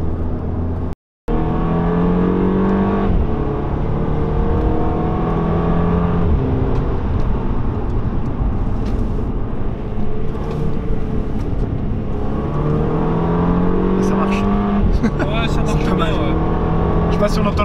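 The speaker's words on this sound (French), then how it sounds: "Je sais pas si on entend le bruit de l'échappement" Audi TT MK2 coupé with the 200 hp engine and a stock exhaust, driven up a mountain pass road: a steady engine and exhaust drone with rising rev sweeps, heard from inside the car and continuous throughout.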